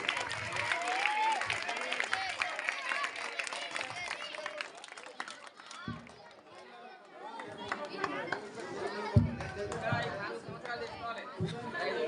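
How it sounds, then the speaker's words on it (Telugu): A crowd at a school prize-giving ceremony applauds with scattered clapping mixed with chatter and voices, rising and falling over several seconds, fairly faint. "చప్పట్లు చప్పట్లు"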